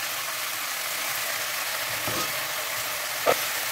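Onions and turkey pieces frying in a pot give a loud, steady, close sizzle throughout, with a brief stirring scrape near the end.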